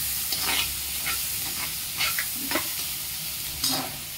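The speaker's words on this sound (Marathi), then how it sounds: "टोमॅटोही परतलाय, त्यात आता लसूण घालते।" Chopped garlic goes into sautéed tomatoes in a hot pan for ridge gourd bharit. A steady close sizzle runs throughout, broken by a few sharp stirring scrapes.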